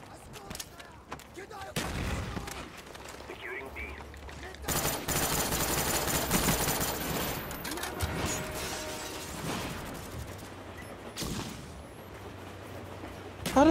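Light machine gun fire in the video game Call of Duty Black Ops rattles in loud bursts of rapid shots, mixed with mechanical clatter and other game noise, fading in and out over the whole stretch.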